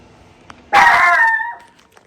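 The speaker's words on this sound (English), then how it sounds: "why are you barking?" A single drawn-out bark, almost a yelp or howl, close and loud, trailing off after about a second.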